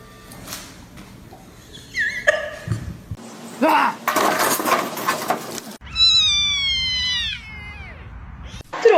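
A cat with its head stuck in a chair lets out a series of drawn-out, rising and falling meows near the end. Earlier there are bumps, scraping and a muffled voice, and the meows are loud and close.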